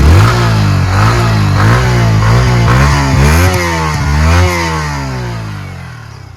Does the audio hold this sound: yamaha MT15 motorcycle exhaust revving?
yes